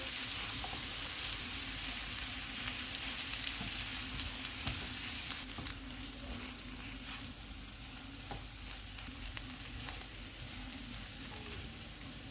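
Mashed potato mixed with fresh coriander cooks in a pan, giving a continuous frying hiss with soft stirring sounds; the hiss drops somewhat partway through.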